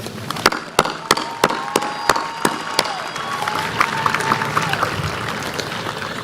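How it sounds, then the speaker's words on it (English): Graduating students at a 2024 high school graduation ceremony clapping, starting with several sharp, evenly spaced loud claps that spread into a broad crowd applause with cheering, heard in a large hall. "And now clap your hands because you're graduating."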